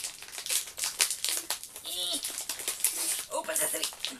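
Plastic wrapper crinkles and crackles in short bursts as a package is tugged open, with someone talking intermittently over it.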